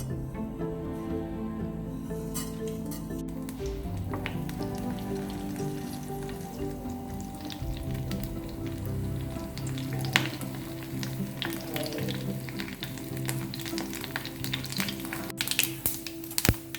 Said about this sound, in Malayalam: പാൻ വെച്ചിട്ട് സാമ്പാറിലേക്ക് താളിക്കാൻ വേണ്ടിയിട്ടുള്ള കടുക്, ഉലുവ, വറ്റൽമുളക്, കറിവേപ്പില ചേർത്ത് കൊടുക്കുക.